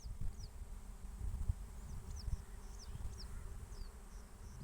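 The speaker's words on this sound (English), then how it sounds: "Those are bees that have just passed nearby." Bees fly past close by outdoors, with a continuous low buzzing drone that swells and fades as they pass, alongside faint chirps in the background.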